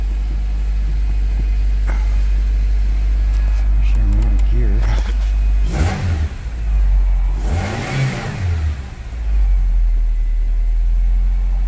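An EF Honda Civic sedan engine idles close by and is revved twice, each rev rising and falling over the steady idle. A person talks briefly between the revs.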